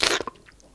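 A dragon munching hot chili peppers makes a sharp crunchy bite followed by a couple of quick, close chewing and smacking sounds, all in under a second.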